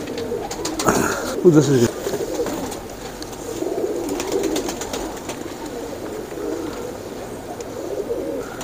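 Royal teddy pigeons cooing close by, a few soft throaty coos in bursts with a brief human voice speaking over them early on.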